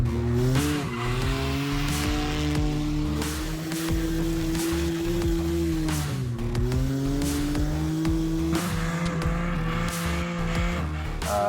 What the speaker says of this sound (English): It's a 2010 BMW 128i.